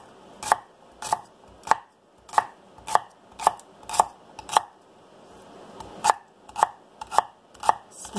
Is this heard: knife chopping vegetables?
yes